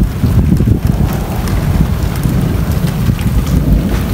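Heavy rain pours down in strong, gusting wind during bad weather, a loud continuous wash with dense low rumbling wind noise buffeting the microphone throughout, no voices.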